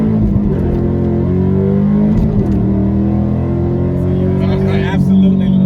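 A cammed Dodge Scat Pack muscle car engine rumbles steadily at close range with a deep, continuous low drone that swells slightly, while voices talk over it.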